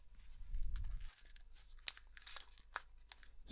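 Origami paper is creased and folded for a waterbomb with crisp crinkling and sharp crackles up close. A brief low rumble from handling comes at the start.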